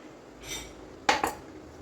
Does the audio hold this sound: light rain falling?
no